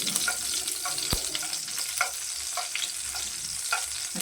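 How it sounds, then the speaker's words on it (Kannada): Mustard seeds popping and crushed garlic frying in hot oil for a sambar, a steady close sizzle with scattered sharp crackles and one loud pop, no talking. "ಸಾಸಿವೆ ಸಿಡಿತಾ ಇದೆ. ಜಜ್ಜಿರೋಂಥ ಬೆಳ್ಳುಳ್ಳಿ ಹಾಕ್ಕೊಳ್ಳೋಣ."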